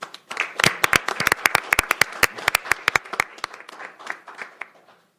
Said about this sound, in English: Please help me acknowledge this important work with a round of applause.